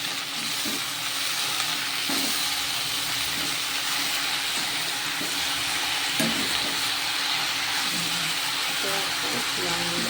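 Amaranth leaves fry in a pan with a dense, constant sizzle and hiss that stays loud and even, with occasional faint scrapes and clicks beneath.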